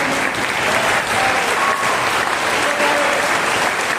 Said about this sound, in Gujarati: આ 7 દિવસો માટે આવો આપણે જોરદાર તાળી